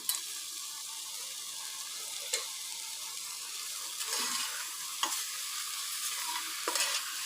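Spinach stir-fried in a pan over a low flame, with a steady close sizzle and repeated scraping stirs of a spoon against the pan, a few sharper clicks and rustles as the greens are tossed, and no talking.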